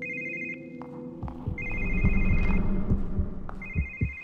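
A telephone rings in a video game cutscene, with repeated electronic ring bursts in a steady pattern over a low throbbing hum and scattered game noises.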